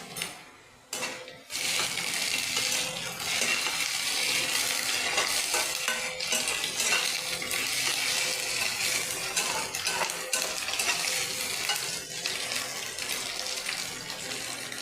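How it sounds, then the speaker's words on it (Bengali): Onion frying in a pan as ginger garlic paste is added for an aloo matar curry, a steady bright sizzle with scraping stirring sounds, close and continuous after a brief opening clatter. "এবার আমি আদা রসুনের পেস্ট দিয়ে দিচ্ছি।"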